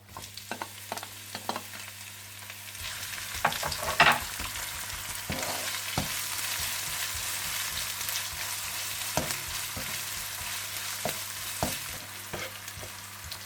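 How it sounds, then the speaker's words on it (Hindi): Onions with garlic frying in a pan, a steady sizzle running throughout with scattered sharp clicks of a utensil stirring against the pan, heard close with no voices. "आप इसमें प्याज डालकर इन्हें भी आप थोड़ा सा भून लें।"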